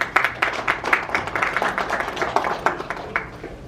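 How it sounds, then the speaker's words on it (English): An audience at an event on a sustainable livelihood mission applauds Mr. Sharma with brisk, close clapping. Sharp individual claps stand out from a smaller group and keep up through the whole stretch. "let's have a thunderstorm round of applause for Mr. Sharma"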